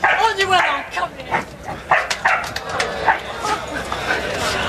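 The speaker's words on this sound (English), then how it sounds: "It's my dog." A dog gives short excited yips and whimpers in bursts, close and fairly loud, with people talking over it in a reunion scene from a British TV drama.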